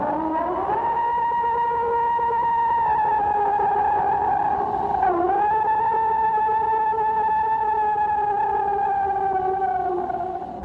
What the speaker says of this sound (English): The sound you hear is what some experts claim to be a Bigfoot scream